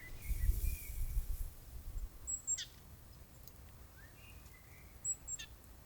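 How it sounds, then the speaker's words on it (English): Birds singing in a sunny February garden, with a few thin high chirps and short whistled calls at a distance, fairly faint over quiet outdoor ambience and a soft low rustle near the start. "listening to the songs of the birds"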